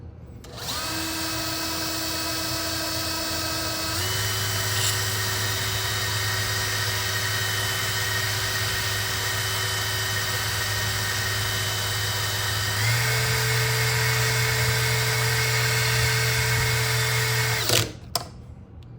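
A spinning engine valve from a GM LS-family L87/L86/L83 V8 with a razor blade scraping off carbon, heard as a steady motorized whine that shifts pitch twice before a sharp scrape and stop near the end.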